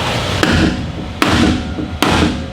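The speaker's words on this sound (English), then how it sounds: "I got a hammer here I borrowed from Jeremy Clarkson, and we're gonna see if we can get some stuff done here." A hammer strikes the exhaust of a shop demo truck three times in a steady rhythm. Each blow is loud, sharp and close, and a short ring follows it.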